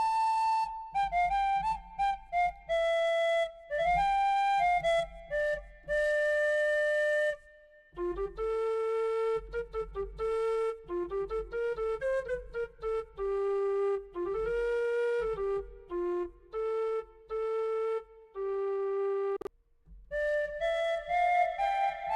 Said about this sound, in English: so I'm just going to go to the whistles here.